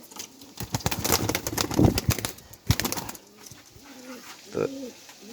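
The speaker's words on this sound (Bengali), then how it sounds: "সবুজ কাজল চোখি মাদি।" Green female kajol-eyed pigeon, marked by white feathered spots beside the eyes, gives several soft coos in the second half. Louder wing flaps and handling noises come before them, and a voice talks faintly in the background.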